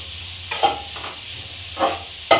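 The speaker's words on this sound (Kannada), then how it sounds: "ಒಂದು ನಿಮಿಷ ಒಂದು ಎರಡು ನಿಮಿಷ ಫ್ರೈ ಮಾಡ್ಕೊಳ್ಳಿ" Food frying in a pan for a sweet dish, a soft continuous sizzle with a few brief scraping stirs, close and without talk.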